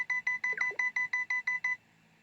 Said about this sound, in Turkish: Alarm çalıyor abi.